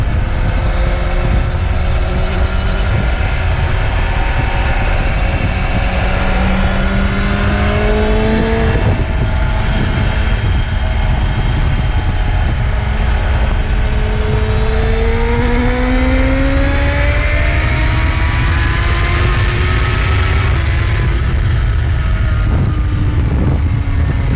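A 2025 MV Agusta Brutale 1000RR motorcycle ridden on an open road, its loud engine droning steadily with rising revs through the gears and wind rush throughout.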